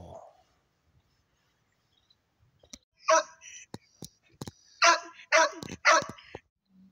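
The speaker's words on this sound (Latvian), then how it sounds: "Ai, kas tu mīlīgs suns, jā." A dog on a fishing outing in Tukums gives several sharp, close barks in a quick cluster, after soft whispering and quiet talk.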